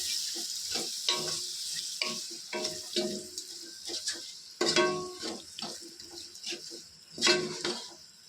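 Homemade curd is stirred into biryani in a pot, giving a run of wet scraping and squelching strokes in an uneven rhythm, close and fairly loud, with no talking.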